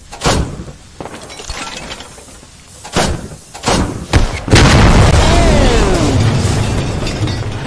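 Rocket blasts and heavy booms in the tactical shooter Squad, a series of sharp loud impacts followed by one big explosion that leaves a long rumbling, debris-filled roar, heard close with no talk.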